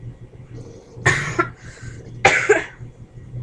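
Two separate harsh coughs from one person, close and fairly loud, about a second apart over a faint low background hum, with no talking.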